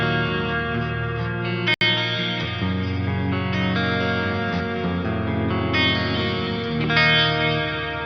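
Electric guitar played through the Mixwave Spiritbox plugin with shimmer reverb, sustained clean chords ringing with a bright, lush, shimmering tail, loud and alone.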